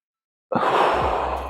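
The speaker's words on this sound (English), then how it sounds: "take a deep inhale here." A single deep breath during a yoga session, drawn in or released as a long, soft, airy sigh that starts abruptly after a short silence and holds steady, close and fairly loud, with no voices over it.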